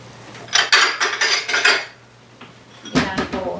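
A bowl is pulled out among dishes in a home kitchen, a burst of ceramic and metal clattering and clinking, then a short pause and another sharp rattle, close and loud.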